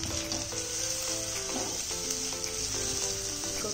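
Vegetables and shredded cabbage frying for veg manchurian give a steady, close sizzle throughout, with faint tonal music underneath and no talking.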